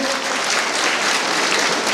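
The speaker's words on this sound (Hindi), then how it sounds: "आपका एक बार जोरदार तालियों से आप सभी स्वागत करेंगे।" Dense, steady applause from a crowd at a college annual function and prize-giving ceremony, welcoming a minister as guest; continuous clapping fills the clip at full strength with no speech.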